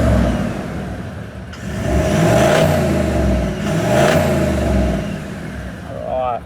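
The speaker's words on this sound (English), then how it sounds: "give it a rev because it does have the upgraded exhaust" A Toyota HiLux GXL dual cab engine revs up twice through an upgraded exhaust with a deep, throaty roar, loud and close, rising and falling between the bursts.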